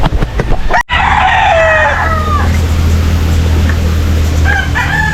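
Rhode Island chickens cluck and crow close by, a rooster's loud crow standing out over a constant background hum, with further short clucks toward the end.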